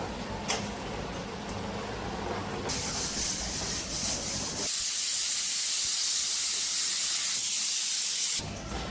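A pressure cooker holding a prawn and potato gravy hisses steam steadily, then rises abruptly into a louder, sustained rush of venting steam that cuts off near the end.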